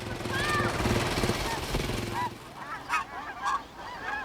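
Snow geese honk repeatedly in a chorus over steady rumbling background noise on Hudson Bay in the Arctic, with a few clearer calls standing out near the end.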